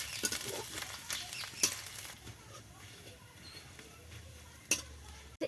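Lightly grated ginger paste added to hot oil with cumin for palak paneer, a soft sizzle with a few sharp stirring clinks and scrapes against the pan, fairly quiet, no voices.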